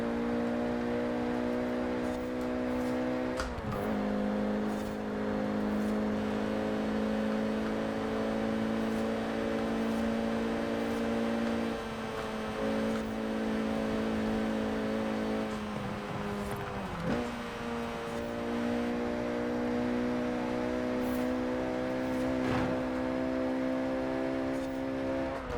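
Renault Clio RS 197 engine racing in Forza Horizon 4, driven with a wheel, a steady sustained engine drone with several sharp dips where gears shift, continuous and loud throughout with no talking.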